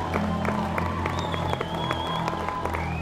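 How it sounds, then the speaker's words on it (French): A crowd applauding in the front row, a patter of claps heard under a steady droning hum, moderately loud and even throughout. "Les colons du premier rang applaudirent."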